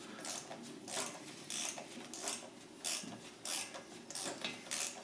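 A wrench ratchets in short repeated bursts while slackening a cylinder head bolt on a Norton 750 Commando engine, with clicking, rasping pulls close by and brief pauses between strokes.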